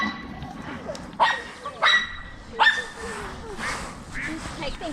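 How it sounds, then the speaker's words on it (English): Small yappy dog barks in a few sharp, high yaps spaced about a second apart, fairly close, with a person talking in the background. "Yappy type dogs."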